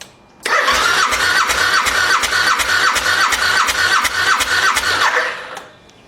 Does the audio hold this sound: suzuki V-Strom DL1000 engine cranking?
yes